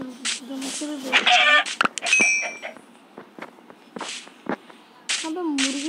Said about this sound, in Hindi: बहुत सारी मुर्गियाँ घूम रही है